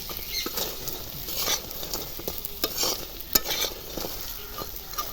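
Bhetki fish and drumstick flower fritters frying in hot oil, giving a steady close sizzle with scattered sharp pops and crackles over about five seconds, no voices.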